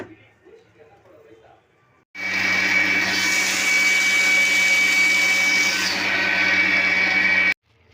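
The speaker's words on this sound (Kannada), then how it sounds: "ಸೊ ಇವಾಗ ಮಿಕ್ಸಿಗೆ ಹಾಕ್ಕೊಂಡು ರುಬ್ಕೋಬೇಕು" A kitchen mixer grinder whirs loudly and steadily for about five seconds, grinding coconut and onion in a small jar for chicken sambar, starting and stopping abruptly against quiet background talk.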